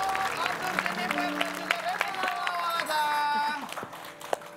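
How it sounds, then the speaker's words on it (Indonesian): Studio audience applause on a TV cooking show, a clattering burst of claps mixed with crowd noise and voices, fairly close and lively, fading toward the end. "tepuk tangan untuk Abdur, Jennifer"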